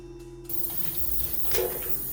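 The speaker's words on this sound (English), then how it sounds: "Now I'm going to test the gun and make final adjustments on the spray pattern" A spray gun fed by a two-stage air compressor, through water and chemical separators, bursts into a loud, steady hiss after a short pause, test spraying for brass instrument lacquering, with a brief surge near the end.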